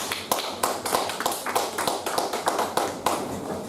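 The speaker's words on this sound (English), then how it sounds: "A big round of applause once again." Applause at a Toastmasters club meeting: a modest group claps in uneven, separate bursts, distinct hand claps rising and falling over a few seconds without voices.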